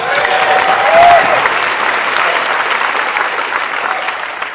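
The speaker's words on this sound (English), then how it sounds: "Give him a round of applause for being nervous." A large crowd applauds steadily, a thick wash of clapping that swells briefly near the start, then holds loud and even.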